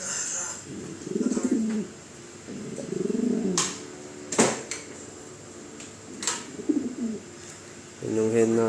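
Pigeons in a double cage with a divider coo softly and repeatedly, low rolling calls close by, with a few sharp knocks and rattles of the cage between them.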